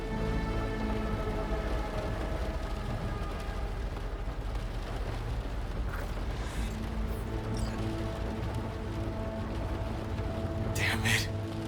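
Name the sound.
rain falling in a video game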